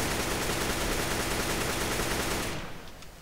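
AK-47 rifle fire in Counter-Strike on the Mirage map, a dense rapid automatic burst of shots running continuously for over two seconds before cutting off into a short fading tail.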